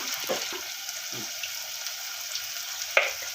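A soft, continuous sizzle of tomatoes with turmeric frying down to a paste in a pan, with a few light scraping stirs and a faint clink near the end.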